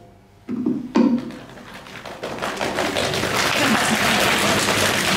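Applause breaking out at a European short film festival award ceremony, starting with a few sharp claps and thumps, then building into a dense, steady crowd applause.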